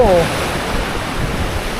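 Sea waves rolling onto Laem Mae Phim beach in Rayong, Thailand, a loud continuous wash mixed with wind noise on the microphone, with a brief voice at the very start.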